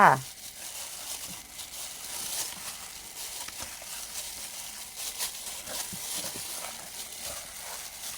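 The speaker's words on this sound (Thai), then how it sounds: "ขยำแรงๆเลยค่ะ" Bare hands firmly squeezing and kneading raw fish with salt for Thai fermented fish, giving steady wet crinkling and squelching close by with no talking.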